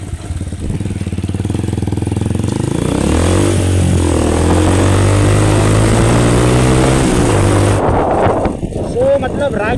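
Bajaj Pulsar motorcycle with a loud aftermarket exhaust, engine roaring steadily and close for about eight seconds with a deep droning tone, then dropping off into wind and road noise; no speech.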